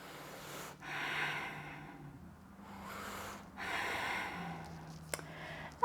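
Slow, deep breaths during a yoga stretch, two long broad inhale-exhale swells close to the mic, each followed by a quiet pause, ending with a brief sharp sound.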